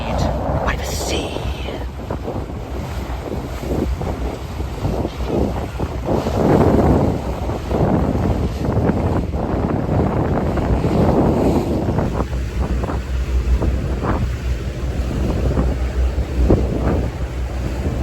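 The 1937-built ferry Queen of Falmouth crosses open sea toward Falmouth, with steady engine rumble, wind buffeting the microphone and waves slapping the hull, and people talking in the background.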